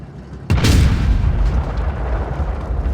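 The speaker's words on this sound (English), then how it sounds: "I'm hearing it for the first time this close to the gun you're shooting in HE." A tank gun in World of Tanks Blitz fires a high-explosive shell from close by: one sudden loud boom after a brief quiet, followed by a rumbling decay.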